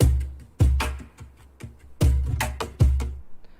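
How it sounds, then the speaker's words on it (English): Cajon sample from a Loop Masters sample pack in a groove of deep booming bass tones and crisp slaps with lighter ghost taps between, played close and dry with no voices. "they had a really good cajon sound like this one"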